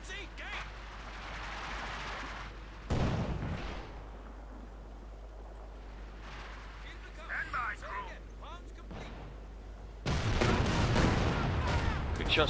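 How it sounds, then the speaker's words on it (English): Gunfire and shell blasts in the World War II strategy game Company of Heroes 2 sound in bursts and sharp reports. A match commentator talks over much of the battle. "Quick shots fired."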